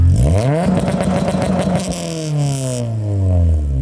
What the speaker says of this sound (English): Let's get some revs and maybe a little two-step and see how she sounds.